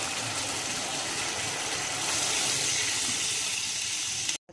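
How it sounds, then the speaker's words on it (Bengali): Water pours steadily into a pan of chilli chicken cooking with soy sauce and tomato ketchup, a continuous close gush with no talk that cuts off abruptly at the end. "এবার পরিমাণ মতন জল দিয়ে দেবো।"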